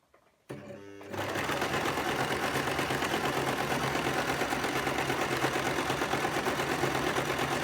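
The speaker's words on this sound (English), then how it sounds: "So we're just going to sew that through." A sewing machine stitches a 3/4-inch seam on an A-line skirt, starting after a brief pause and then running at a steady, fast, even whir for several seconds, close and alone.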